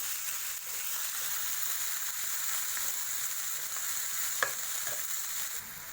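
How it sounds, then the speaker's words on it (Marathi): Coriander for kothimbir vadi roasts in a pan with a faint, steady sizzle and soft stirring scrapes, one brief sharper clink near the end, no voices. "तुम्ही पाहू शकते की आमची कोथिंबीर रोस्ट होऊन गेली"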